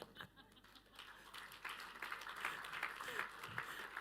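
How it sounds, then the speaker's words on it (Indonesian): A church congregation claps in a hall, a soft, scattered applause that builds slightly and continues under a voice speaking. "Saya tuh tahu saudara tepuk tangan"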